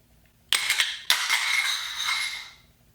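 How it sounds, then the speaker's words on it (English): Wrenches levered against a padlock to break it, with a sharp metallic snap followed by a second crack, each trailing into a ringing metallic rattle that fades out, close and fairly loud, with no speech. "I don't know what's gonna break first, the lock or these wrenches"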